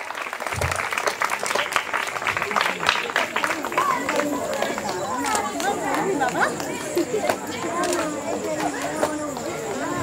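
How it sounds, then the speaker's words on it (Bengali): Loud, sustained applause fills a hall as an audience claps for a performer at a Teachers Day function, and crowd chatter and voices mix in throughout. "সকলে জোরে করতালি।"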